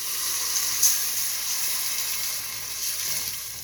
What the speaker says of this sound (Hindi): मैं गुड़ वाला और ब्राउन शुगर जो है उसका पानी डाल रही हूँ